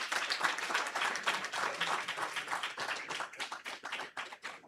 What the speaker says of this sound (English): Another round of applause for Horace, please.